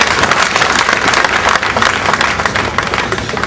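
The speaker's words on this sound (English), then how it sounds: "Please give an applause to the Gambia Bar" A crowd at a call-to-the-bar ceremony for new legal practitioners applauds loudly and continuously, with dense, even clapping throughout and no talk.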